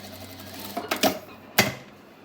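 A sewing machine stitches fabric for a telekung in short, separate bursts over a quiet background hum.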